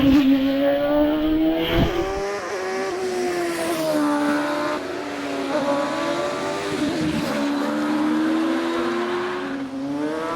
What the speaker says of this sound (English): Nigel Pitt in a modern OMS 3000